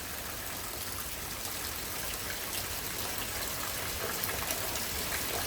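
Heavy rain pours steadily in a thunderstorm in Frisco, Texas, a dense, even hiss of falling water close by with no letup and no voices.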